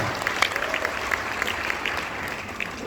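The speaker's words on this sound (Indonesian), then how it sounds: "Beri tepuk tangan yang meriah bagi Tuhan." A church congregation at an evening revival service breaks into loud, sustained applause, a dense crowd of clapping with a faint voice underneath.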